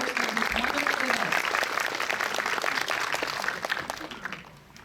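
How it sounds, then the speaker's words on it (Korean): Audience applause welcoming a speaker at a film event opening ceremony at Cinematheque KOFA, a steady dense clapping that holds for several seconds and then fades out. "박수로 맞이해 주십시오."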